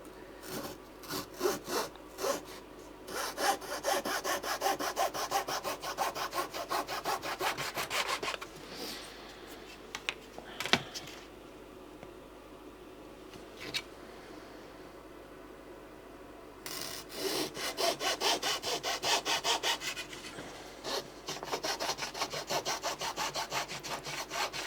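Balsa wood being sawn by hand for a small model kangaroo, with quick rasping strokes in fast rhythmic bursts, a pause partway through with a few scrapes, then steady sawing again, close and fairly loud.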